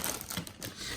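A PlayStation Classic controller is unwrapped from its plastic bag, with faint, quick crinkling and rustling up close.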